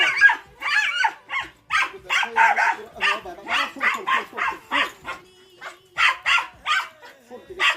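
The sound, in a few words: dog barking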